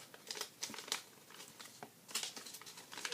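Paper being folded by hand for an origami flapping bird, quiet and close, with soft crinkles and rustling creases coming in short bursts and no talking.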